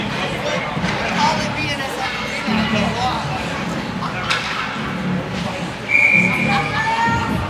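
A referee's whistle blows over crowd murmur at an ice hockey game after the goaltender covers the puck, a couple of sharp shrill blasts cutting through arena noise while a commentator talks.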